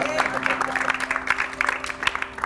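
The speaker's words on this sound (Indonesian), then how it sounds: "kasih tepuk tangan dulu dong" Audience applause at a stage variety show, a dense run of clapping lasting a few seconds at moderate loudness, with a faint steady hum underneath.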